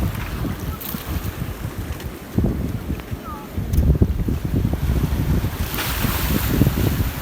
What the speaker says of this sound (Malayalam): ഇതാണ് നമ്മുടെ സ്പീഡ് ബോട്ട്.